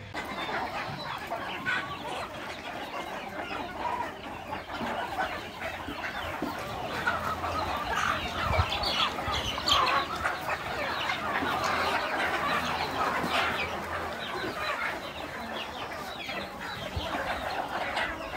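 Native country chickens cluck steadily in a dense, continuous flock chorus close by, with overlapping calls and no talking.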